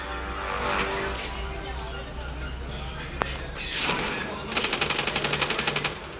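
Gunfire in the mobile shooter Standoff 2 ends in a loud, rapid automatic burst of evenly spaced shots, after a single earlier shot and game noise, with someone talking over it.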